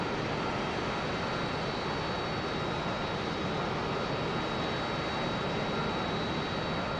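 Embraer A-29B turboprop engine running steadily in a flight simulation game, a dense continuous roar with a thin high whine, loud and unbroken throughout with no talk.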